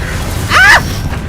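A spell cast in the video game Hogwarts Legacy, a single short whooshing magical burst with a rising shimmer, close and fairly loud over low background game ambience.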